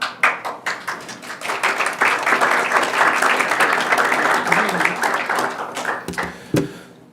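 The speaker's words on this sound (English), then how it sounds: "So thank you for that round of applause." An audience at a public city council session claps in a dense, rapid patter that builds, holds strong, then thins to a few scattered claps and stops near the end.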